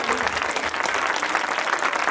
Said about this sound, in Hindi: ताली बजा के धन्यवाद करें